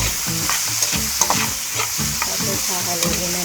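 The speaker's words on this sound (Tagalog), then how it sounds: "Tapos hahaluin na naman po natin ulit hanggang sa maluto yung ating kamatis." Tomatoes fry and sizzle in a pan while a utensil stirs them, giving a steady loud hiss broken by repeated close scraping and clinking strokes, with no voices.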